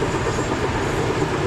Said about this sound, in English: This is like one of those old-fashioned freight trains.